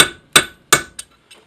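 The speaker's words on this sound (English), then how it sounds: "Just try to get it loosened with a punch here." Hammer blows on a metal punch loosening the snap ring of a Hyundai Accent front wheel bearing: two loud sharp metallic strikes, then two fainter taps, close and alone.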